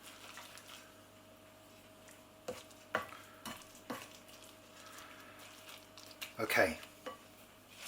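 A pan of red onion fried with a spoon scraping and stirring, for a scarpaccia with courgettes and potatoes, gives soft intermittent scrapes and clinks over a low sizzle, with one louder clatter near the end and a brief word spoken.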